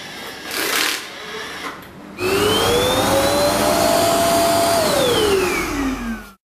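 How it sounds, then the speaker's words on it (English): An ECOVACS DEEBOT charging station's canister switches on to suck dust from the robot vacuum, a loud whining suction that holds steady, then falls in pitch and cuts off, after a quieter stretch of softer noise. "When DEEBOT returns to the charging station, the canister above will automatically begin to work, sucking the dust from DEEBOT."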